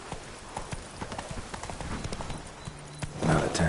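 Roach, a horse in The Witcher 3, trots with steady clip-clopping hooves, close and rhythmic, ending in a louder rustling burst.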